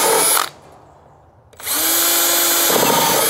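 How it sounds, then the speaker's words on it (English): A power drill bores holes in a pipe for a 55-gallon drum garden tower, whining loudly and close, pausing for about a second before starting up again and holding a steady high drone. "I'm gonna go ahead and install several holes"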